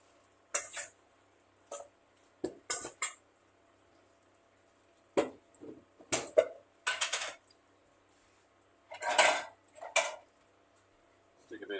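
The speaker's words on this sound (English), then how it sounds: "just give this a bit of a stir around." Egg and bacon salad stirred in a dish, several separate bursts of utensil scraping and clinking against the bowl spaced by quiet pauses, close and fairly clear.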